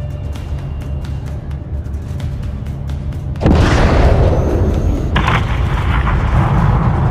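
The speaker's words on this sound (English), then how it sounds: "have your man drop a missile on that hangar" A missile strike blows up a hangar in Call of Duty Modern Warfare 3: after a low rumbling lull, a sudden heavy blast erupts into a loud, sustained roaring explosion that swells again as debris and fire continue.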